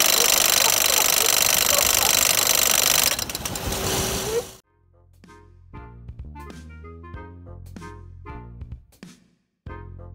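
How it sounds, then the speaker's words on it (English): A Chevrolet Spark's air conditioning with a fault makes a loud, harsh, rapid hammering like a jackhammer that runs steadily for several seconds, then cuts out and gives way to irregular mechanical knocks and clanks. "Customer states when they turn on their AC, it sounds like a jackhammer."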